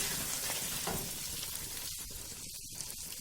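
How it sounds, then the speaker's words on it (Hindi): Chicken frying with spices in a pan while being stirred, a steady close sizzle running throughout with a few brief scraping stirs toward the end. "स्पाइसेस ऐड करने के बाद तकरीबन हम इसको 1 मिनट तक अच्छे से मिक्स करेंगे"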